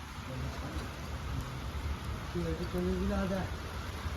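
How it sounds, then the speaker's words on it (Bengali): Heavy rain pours steadily in front of a garage by a road, a dense continuous wash of drops, with a voice rising briefly in the later part. "বৃষ্টি নেমে গেছে প্রচণ্ড"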